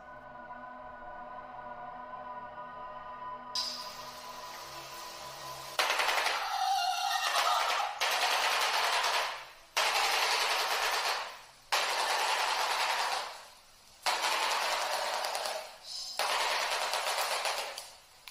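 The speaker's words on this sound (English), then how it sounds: "the Shoebill rattles its massive beak, creating a sound that mimics gunfire" Rapid machine-gun-like rattling bursts from a shoebill's massive beak, several separate volleys with short gaps between them, loud and close.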